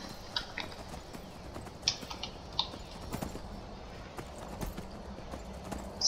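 A Skyrim horse, in a Requiem-modded game, gallops along with a steady, close drum of hoofbeats, broken by a few sharper clicks and clacks in between.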